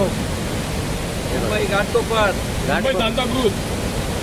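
Dhutpapeshwar waterfall at Rajapur gives a constant broad roar of falling water, heard close and loud while people talk over it.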